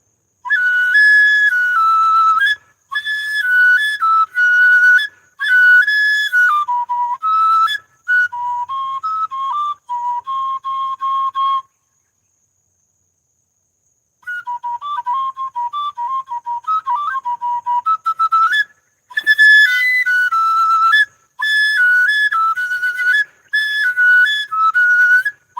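A flute plays a loud, clear solo melody in lilting phrases of held and stepping notes. The melody stops for a short silence partway through, then resumes with no other sounds behind it.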